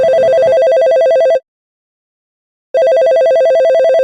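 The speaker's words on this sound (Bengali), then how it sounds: "অসময় খালি ফোন আসে" A telephone rings with a loud electronic trill, one burst, a pause of over a second of silence, then the ring starts again, close and alone without talk.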